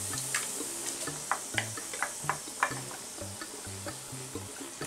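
Tomato frying over high heat in a pan with a little cumin, a continuous soft sizzle with scattered pops and ticks and occasional stirring scrapes, close and moderately quiet.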